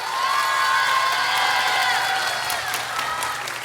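An audience at a Korean televised talk show featuring an explorer breaks into loud, sustained applause mixed with cheering and a few whoops, the dense clapping holding steady for a few seconds and easing slightly toward the end.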